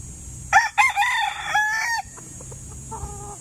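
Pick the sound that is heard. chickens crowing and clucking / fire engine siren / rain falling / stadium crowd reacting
chickens crowing and clucking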